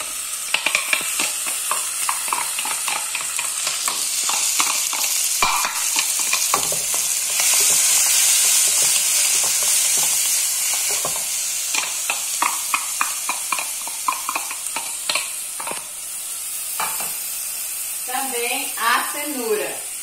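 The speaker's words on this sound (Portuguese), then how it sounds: "Vou acrescentar agora a cebola e o pimentão." Onion and bell pepper sauté in a hot pan for a baked rice dish, a steady loud sizzle with frequent scraping stirs throughout and a brief burst of vocal sound near the end.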